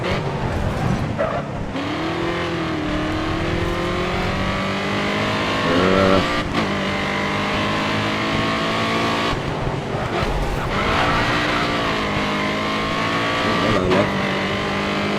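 Race car engine in the video game GRID Autosport, roaring loud and steady with shifting revs and gear changes, with brief tire skids and squeals mixed in over about fifteen seconds, no voices.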